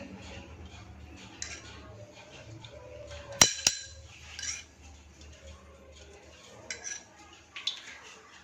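Dry fruits are stirred while roasting in desi ghee in a pan, making faint, sparse scraping and light metallic clinks and taps, with one sharper double clink near the middle.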